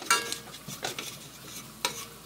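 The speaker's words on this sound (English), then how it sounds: "You see the flour is sizzling, and we want that to start browning in here." Flour sizzling in hot pork grease as a roux for onion gravy, a faint crackle with a few soft stirring scrapes and clinks of a utensil in the pan.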